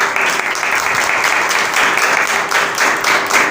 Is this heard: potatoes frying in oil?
no